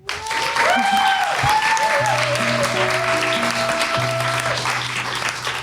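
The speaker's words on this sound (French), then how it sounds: "je vous demande de faire un tonnerre d'applaudissements pour Aigre-Douce, s'il vous plaît." A loud, dense burst of audience applause fills the room, continuous clapping from many hands with sustained tones ringing underneath.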